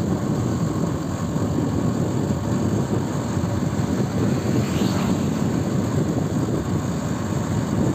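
A motorbike rides along a canal beside the Ganges riverbed at dusk, its engine a steady low droning hum with continuous wind rush, heard close and unbroken with no talking.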